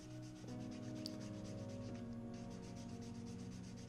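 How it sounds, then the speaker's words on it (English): Sandpaper of 180 grit rubs along the edges of a wooden guitar back plate, making a steady close-up scratchy rasp that runs continuously with regular strokes and no talking. "I'm just using 180 grit to get all the edges"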